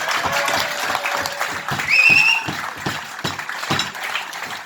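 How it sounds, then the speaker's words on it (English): Applause at a farewell gathering in a cricket club, with sparse, distinct claps from a smaller group and a brief whistle or cheer partway through. "Let's give Mohan a big round of applause"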